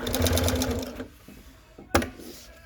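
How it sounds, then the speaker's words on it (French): A Dürkopp Adler industrial sewing machine runs a steady burst of rapid stitching for about a second, loud and close, followed by quieter mechanical clicks and a sharp knock. "Regarde, là, je vais faire coudre."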